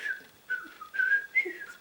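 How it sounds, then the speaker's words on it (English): Someone attempts to whistle but barely manages it, producing a few thin, breathy, wavering tones in short bursts separated by pauses, close and fairly quiet with no talking. "Try to whistle, but can't really."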